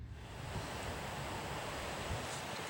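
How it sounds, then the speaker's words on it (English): Steady, faint wind noise rushes across the microphone outdoors during metal detecting, a constant broadband hiss with low rumbling. "sorry for the wind, it's kind of windy out here."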